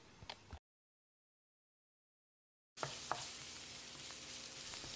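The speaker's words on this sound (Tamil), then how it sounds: "ரெண்டு பச்சை மிளகாய் நீல வாக்கில் நறுக்கி வச்சுருக்கேன். இதையும் போட்டு மறுபடியும் ஒரு 30-40 செகண்ட் பெரட்டி விட்டுடலாம்." Sliced green chillies fry and are stirred in a pan, a brief sizzle with scraping at the start, a gap of silence, then a steady close crackling sizzle.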